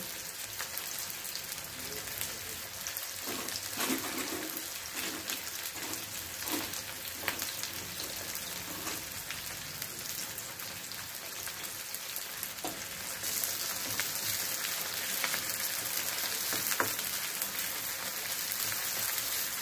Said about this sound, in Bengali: এই হাফ কিলো চিকেনটা এরপর আমি ওই পাত্রতে ভেজে নেব।